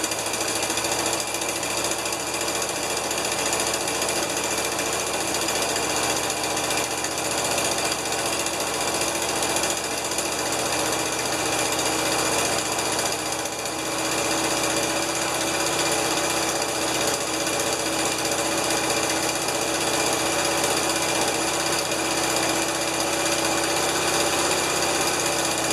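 The V8 engine of a 1975 Lincoln Continental running steadily after a restart, a loud, even, rapid mechanical chatter lasting throughout, close by with no talk.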